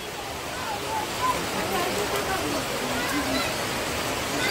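Heavy monsoon rain pours down near an aquarium in Sawantwadi, Konkan: a dense, steady roar of water that stays close and loud from start to finish with no letup.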